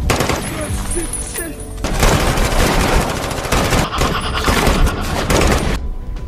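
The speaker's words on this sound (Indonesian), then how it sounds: "mengeluarkan tembakan yang tak lama kemudian disusul tembakan" Dense, chaotic bursts of gunfire in the film Battle: Los Angeles crackle and boom loudly, overlapping rapid shots with heavy impacts throughout.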